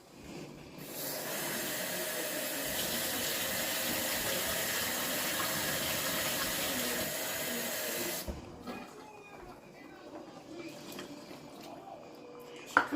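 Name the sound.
water poured into a pot for pasta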